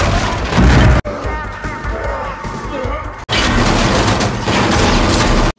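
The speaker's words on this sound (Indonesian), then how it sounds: "hingga pada akhirnya Brian berhasil menembaki tepat di kepalanya hingga tewas" Gunfire crackles through a gangster film fight scene, loud bursts and crashes in two dense stretches split by a quieter middle section where a voice speaks.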